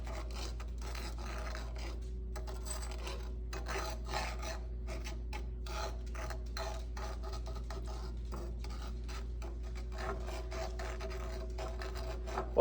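Sugar for dalgona candy stirred in a pan over medium heat, giving continuous close scraping and rasping strokes over a low steady hum, with no voices.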